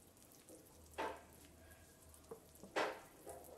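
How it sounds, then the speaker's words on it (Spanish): Pumpkin cake batter stirred in a bowl, with a few soft scraping and sloshing strokes near the one-second mark and again near three seconds, over a quiet background. "Y sigo mezclando."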